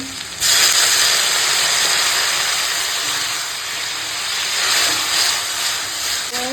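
Water hits a hot pan of sizzling vegetables and softened tomato, a loud sudden hiss that holds as a steady steamy roar, easing slightly midway and then rising again.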